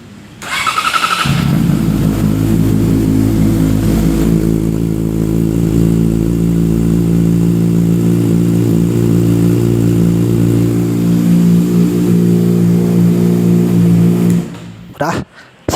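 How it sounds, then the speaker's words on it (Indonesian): A 2014 Yamaha R6 sport bike revving indoors: after a brief start, the engine settles into a loud, steady high-pitched idle and rev that holds for about thirteen seconds before cutting off, with no talk over it. "Buat kalian yang penasaran gimana sih suaranya R6 itu."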